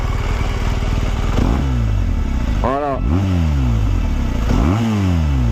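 A 2017 BMW R1200GS Exclusive motorcycle engine revs up and down several times close by, rising and falling in repeated surges, with someone talking over it.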